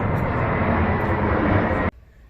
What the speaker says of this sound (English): this is a great example to show you how close airplanes